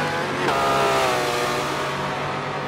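A LaFerrari-based track car in Forza 7 holds a steady, droning engine note with a brief gear change or shift early on, continuous and fairly loud, under a faint voice.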